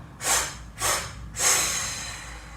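Three forceful exhales blown out through the mouth during a yoga breathing exercise, each a short breathy whoosh, the last a little longer, close and alone.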